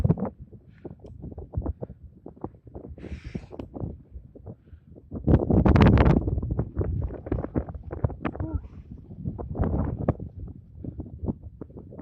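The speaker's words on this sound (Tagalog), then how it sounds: "Mahangin siya." Gusty wind buffets the microphone in loud rumbling surges, with people talking over it.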